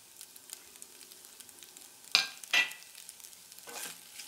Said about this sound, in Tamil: இந்த ஸ்டேஜில் நம்ம இப்போ முட்டையை வந்து நம்ம இதில் ஆட் பண்ணிக்கலாம்